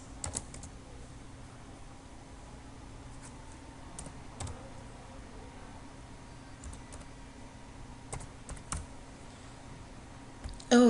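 Sparse, scattered keystrokes on a computer keyboard while an equation is typed into a Microsoft Access field, soft clicks in small clusters separated by pauses over a low steady hum, with one louder knock at the end.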